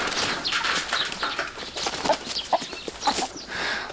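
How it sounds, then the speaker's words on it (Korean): Free-range chickens on an island farm clucking in scattered short calls, close and fairly loud, with rustling outdoor background and no talk. "가두어 놓고 기르지 않은 닭은 다리가 길고 힘이 세다."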